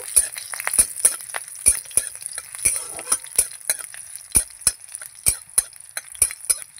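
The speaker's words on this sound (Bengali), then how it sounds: "দেব দুটো কাঁচা লঙ্কা ফোড়ন দিয়ে ভালো করে নাড়াচাড়া করব।" Green chillies tempering in a pan are stirred with a utensil that taps and scrapes the metal in a steady run of sharp clinks over a light sizzle, close up, with no talking.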